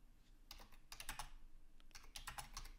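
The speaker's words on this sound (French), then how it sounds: "là j'utilise le clavier de mon ordinateur pour le coup." Quiet typing on a computer keyboard, two quick bursts of close key clicks separated by a short pause.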